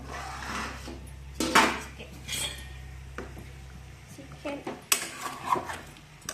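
Old metal cooking pots and vessels handled in a home kitchen, sharp clinks, clatters and scrapes arriving in irregular bursts, near and fairly loud, with someone talking in between.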